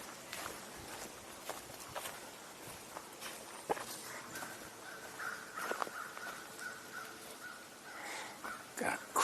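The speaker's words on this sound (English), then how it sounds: "Got a crow in that direction." A crow caws outdoors, somewhat distant and intermittent, mixed with footsteps crunching along and faint ambient noise.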